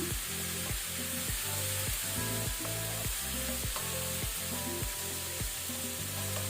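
Chili powder is stirred into methi paneer in a pan: a continuous, even frying sizzle runs the whole time with a faint repeating pulse beneath it.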